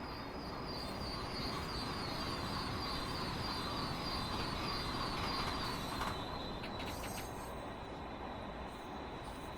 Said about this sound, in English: So we're just going to bring this train to a stop wherever it lands at this point